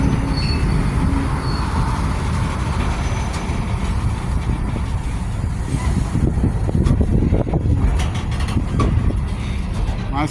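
A CSX M601 freight train passes through downtown Atmore, Alabama, with a loud, steady rumble of engines and rolling cars and thin wheel squeals near the end.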